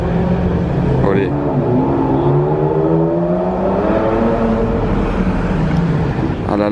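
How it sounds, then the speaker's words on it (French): A Ferrari Enzo with its exhaust valves open revs loudly, the engine note climbing and sweeping in strong rising pitches, close by and dominant, with voices in the background. "j'adore le bruit de l'Enzo quand elle a les valves ouvertes comme ça, c'est ça le vrai bruit de la Enzo"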